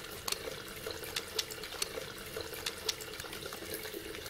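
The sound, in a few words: tap water running while washing hands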